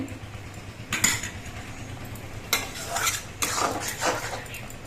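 A ladle back mashes tomato chutney in a pan, with a few scraping, clinking strokes against the metal over a soft simmering sizzle.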